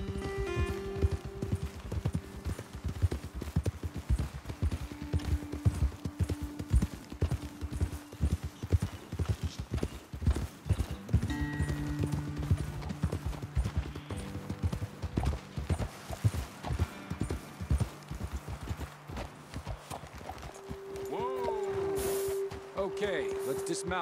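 Horses in the Red Dead Redemption 2 video game clip-clop steadily along a trail, a busy rhythm of hooves under music and talking voices, with a brief whinny near the end.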